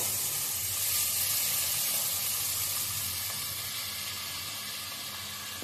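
Chopped bottle gourd and potato sizzle loudly in a hot pan with a steady, close, dense hiss that slowly fades a little; there is no talk.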